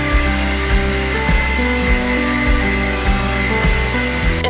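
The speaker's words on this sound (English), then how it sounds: "I'm just gonna quick blow dry this real quick and then we'll get on to the next step" Hair dryer blow-drying damp hair ends, a steady close whoosh of motor and airflow with a constant hum, slight shifts in pitch as the dryer moves, and no talking.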